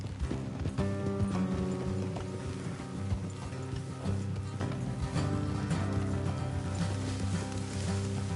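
Horses trot along in the video game Red Dead Redemption 2 with a steady clip-clop of hooves, accompanied by a continuous musical score.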